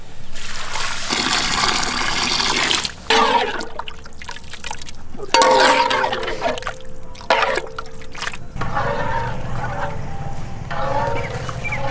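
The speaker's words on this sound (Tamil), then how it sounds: "தேவையான அளவு தண்ணி ஊற்றி விடுமுக்கா." Water poured into a pan of garlic tiger prawn curry, a steady trickling and splashing stream that runs for several seconds with a few brief breaks, close and fairly loud.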